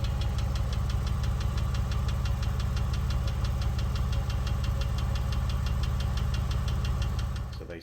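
A warm Porsche 996 with an M96 engine knocks with a fast, even, metallic ticking over a steady idle throb, close and continuous until it drops off at the very end.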